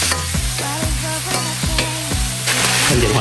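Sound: stir-frying chicken with Chinese sausage and sauce

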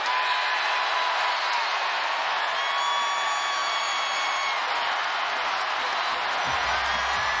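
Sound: sold-out basketball arena crowd cheering loudly

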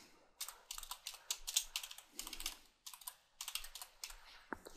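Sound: typing an affiliate link on a computer keyboard

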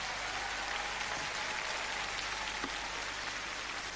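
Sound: audience applause for contestant Selena

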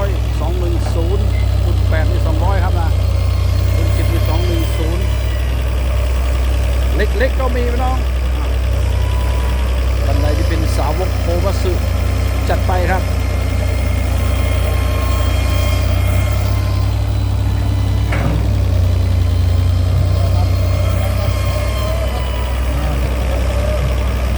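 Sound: Komatsu PC200-7 excavator engine running

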